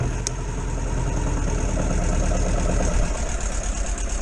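A Suzuki Bandit 650 motorcycle engine, just revived after carburettor trouble, runs steadily at a close, loud idle. Its even, throbbing pulse holds for the whole stretch without pause.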